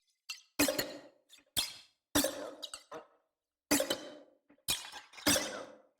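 A music loop from Splice, processed with plugins into an artificial, glassy texture, plays as sharp percussive hits and clinking bursts with short silent gaps between them, moderately quiet and without voices.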